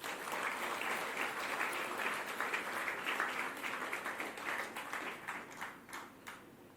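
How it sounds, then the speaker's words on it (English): Faint, distant round of applause from a school audience at a recognition event, continuous clapping with a few louder individual claps standing out toward the end. "Let's give all of you a big round of applause."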